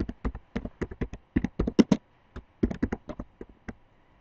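Someone typing at a computer keyboard while entering a worksheet tab name in Excel, with quick bursts of close, crisp key taps separated by a brief pause.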